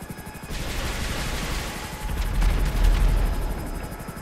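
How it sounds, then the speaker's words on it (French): Helicopter rotors thud in GTA 5 Online, a loud, steady chopping roar that swells midway, mixed with rapid gunfire-like bursts. "J'adore ces hélicos."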